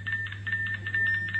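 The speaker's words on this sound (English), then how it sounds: "LED turns orange and flash with a buzzer." A two-way radio walkie-talkie sounds a faint, steady electronic buzzer tone as it enters over-the-air frequency writing mode, with a soft pulsing pattern and a low hum beneath.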